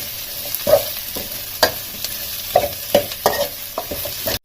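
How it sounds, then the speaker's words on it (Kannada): Chayote peel roasts in a pan for chutney, with a soft sizzle under repeated spatula scrapes and clinks at an uneven rhythm, close and alone with no talk. "ಇದನ್ನ ರೋಸ್ಟ್ ಆಗೋ ತರ, ಅಂದ್ರೆ ತುಂಬಾ ರೋಸ್ಟ್ ಅಲ್ಲ, ಅದು ಹಸಿ ವಾಸನೆ ಹೋಗೋವರೆಗೂ ನಾವು ಇದನ್ನ ಹುರ್ಕೋಬೇಕಾಗತ್ತೆ"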